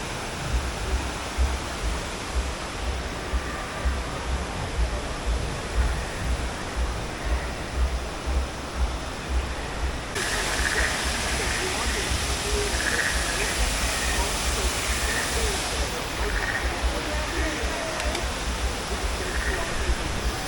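Artificial waterfall in a Pandora-themed land at Disney's Animal Kingdom, a steady broadband rush of falling water that fills the scene and grows louder and denser about halfway through, with faint crowd murmur beneath.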